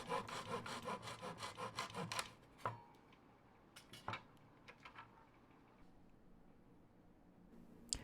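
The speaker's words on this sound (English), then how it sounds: "Here I'm just sanding the edges of the dowels a little bit" Rapid rhythmic rubbing strokes of sandpaper on the edges of wooden dowels for a couple of seconds, then stop, followed by a few scattered clicks and light taps, close and quiet.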